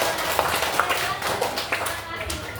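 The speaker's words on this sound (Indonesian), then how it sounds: "Oke, tepuk tangan buat robot cerdas." Children clap for a smart robot demonstration in an Indonesian classroom lesson, a scattered, uneven patter of hand claps with a few sharper individual claps, fairly close and moderately loud, fading slightly toward the end.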